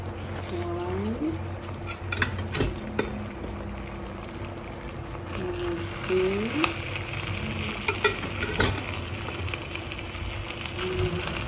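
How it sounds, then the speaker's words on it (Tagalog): Glutinous rice being stirred into coconut and brown sugar for Filipino suman, with a steady soft scraping and mixing texture, faint background hum and occasional clinks, a voice speaking briefly at times. "I'm mixing my suman."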